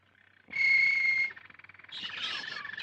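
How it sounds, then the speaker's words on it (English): Canaries singing in the 1936 film Sabotage: bright, piercing trilled notes ring out close and clear, then give way to rapid twittering chirps. "I want a nice singing canary."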